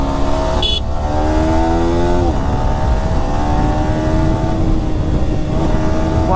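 A 2024 Yamaha R15M Monster Edition motorcycle running, its engine note rising and falling through several revs and gear changes, loud and close with a steady droning hum and no talk.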